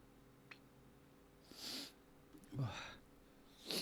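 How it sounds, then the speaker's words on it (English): A person sniffing indoors at a desk, a few short nasal sniffs spaced apart, close and fairly soft against a quiet background. "Yes, indeed, I am sniffing."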